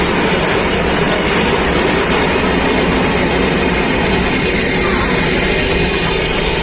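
A loud, steady rumble and roar of a train stopped in Chhattisgarh near a stone quarry fills the air, continuous broadband noise without any voices.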